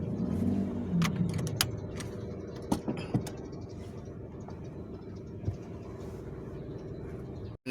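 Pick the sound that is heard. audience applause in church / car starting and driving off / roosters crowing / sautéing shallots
car starting and driving off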